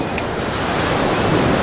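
Ocean waves washing onto a beach in Florida, a steady loud roar of surf with wind buffeting the microphone, continuous and close with no talking.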